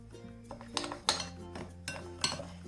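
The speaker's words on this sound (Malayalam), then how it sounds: "ഇതോടൊപ്പം തന്നെ ഞാൻ 1 ടീസ്പൂൺ ബേക്കിംഗ് പൗഡറും കൂടി ഇട്ട് ഇതൊന്ന് മിക്സ് ചെയ്ത് കൊടുക്കും." Semolina and baking powder being stirred together in a bowl, a quick run of clinking metal-on-bowl scrapes and taps in an uneven rhythm, close and fairly quiet, without speech.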